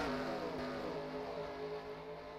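Race cars run in a tight pack at Infineon, a faint, distant engine drone with steady droning harmonics and a slight fade near the end, with no talking heard.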